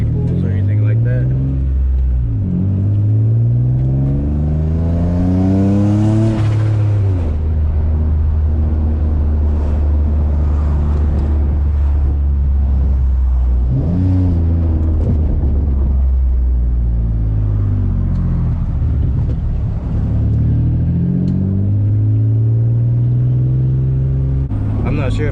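A turbocharged Nissan G35's engine runs steadily in the cabin for the whole stretch, a low droning hum whose pitch rises and falls with repeated revs, close and loud, with occasional talk over it.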